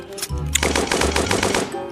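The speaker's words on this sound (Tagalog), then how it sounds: "Madaya, machine gun" Rapid burst of video game machine gun fire, loud and close, a dense stream of shots after a brief lead-in, with no talk over it.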